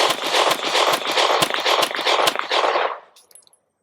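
A Sig P365 XL pistol firing 9mm rounds: a rapid string of sharp, loud reports in quick succession with metallic clatter, ending abruptly and fading into silence.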